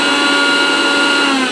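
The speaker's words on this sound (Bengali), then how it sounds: "এবার আমি কড়াইশুঁটিটাকে মিক্সার জারে পেস্ট করে নেবো।" A mixer grinder purees green peas into a smooth paste, giving a loud, steady motor whine that holds constant from start to end with no talking over it.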